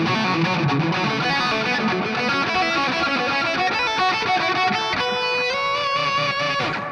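Distorted electric guitar on an Epiphone Les Paul plays a fast pentatonic lead lick, dense with rapid notes, with a sustained held note near the end, loud and close.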